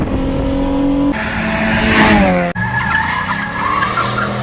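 A minivan skids and slides on a road after a snowstorm, with loud engine revving and tire squeal that continues without break and shifts pitch partway through, close to the listener.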